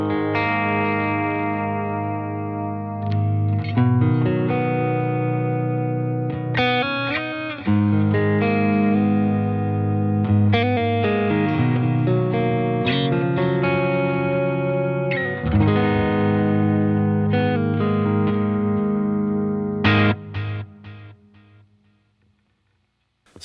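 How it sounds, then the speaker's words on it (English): Electric guitar played through a pedalboard with an analog delay emulating a Memory Man plus a digital delay: overdriven chords and melodic lines with repeating echoes trailing each phrase, loud and continuous, ending in a fading decay. "it's got that kind of analog delay in there, emulating the Memory Man, as well as a digital delay if I want to use something a bit more modern sounding"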